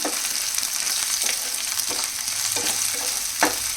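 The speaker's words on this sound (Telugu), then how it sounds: "ఇది కూడా పచ్చి వాసన పోయే వరకు ఫ్రై చేసుకోవాలి." Ginger garlic paste frying in a pan gives a steady, loud sizzle, with a few sharper crackles and stirring scrapes breaking through at intervals. No voices are heard.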